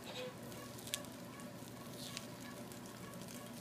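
An omelet cooks in a pan over a gas flame, giving a faint, steady sizzle with a couple of small ticks and no talking.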